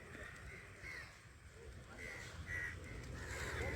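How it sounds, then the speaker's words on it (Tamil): Several crows caw in repeated harsh calls while they bathe outdoors, moderately distant, over a steady background rumble, with a person talking between the calls. "எவ்வளோ காகங்கள் இருக்குது பாருங்கள்"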